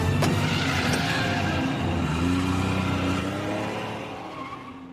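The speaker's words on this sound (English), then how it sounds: "When Michael watched Lori and the two kids drive away" A car from the film Halloween H20 pulls away, a loud engine roar with a tire screech early on, fading gradually as it drives off into the distance.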